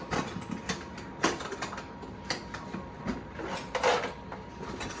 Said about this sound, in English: I'm going to see if I'm able to do some prying up of this. I think I'll use maybe a chisel.